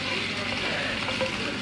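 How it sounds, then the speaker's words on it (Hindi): Onions sizzle and fry in ghee for a tadka for chole, a steady, loud crackling hiss throughout with no voices. "उसमें प्याज का तड़का लग रहा है"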